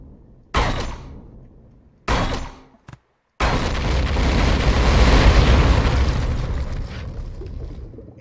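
Explosive blocks in Empyrion detonating after being shot: two sharp, loud blasts that decay quickly, a brief pop, then a sustained, roaring explosion rumbling on for several seconds.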